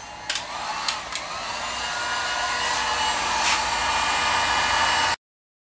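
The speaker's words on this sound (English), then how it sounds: "Once again, it is heat gun time." A heat gun blows on a pipe as a steady, close, breathy hiss that builds slightly before cutting off abruptly, with a few faint clicks near the start.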